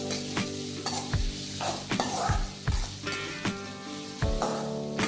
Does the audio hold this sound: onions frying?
yes